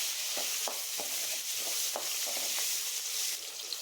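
Onions sauté in a pan with asafoetida, a soft continuous sizzle broken by light rhythmic scrapes of stirring, close by and without speech.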